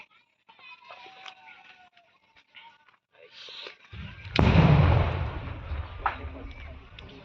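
Explosive charge set off down a well, a sudden loud deep boom that rolls into a long rumbling roar, following quieter outdoor sounds and distant voices.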